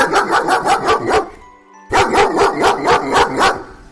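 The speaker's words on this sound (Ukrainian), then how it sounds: "це собака і вона гавкає" A dog barks rapidly in a rhythmic series, pauses briefly, then resumes with another quick run of loud, close barks.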